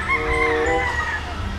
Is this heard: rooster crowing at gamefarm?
yes